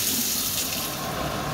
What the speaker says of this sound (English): So I got the hot water going out of the kitchen sink